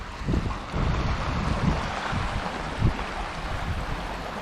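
Rushing flood water surging through a street after a downpour in Krynica-Zdrój, a steady loud wash with low thumping pulses and wind buffeting the microphone, no voices.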